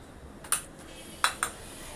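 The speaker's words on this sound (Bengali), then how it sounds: "গ্যাসটা জ্বালিয়ে কড়াটা বসিয়ে দিচ্ছি" A wok is set down on a lit gas stove, making a few sharp metallic clanks, one near the start and a close pair later, against a quiet kitchen background.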